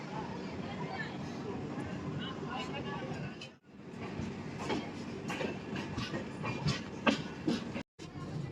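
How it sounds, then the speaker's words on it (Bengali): The Surat Express rolls out of Malda station with a continuous rumble and clickety-clack of wheels on rails, heard from inside a 3AC coach, with muffled talk under the steady noise. "এখন 6:32-এ ট্রেনটি ছাড়লো"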